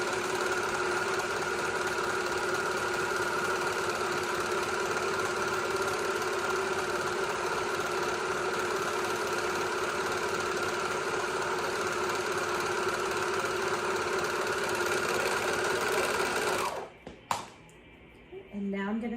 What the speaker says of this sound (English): serge the bottom because it's just one straight line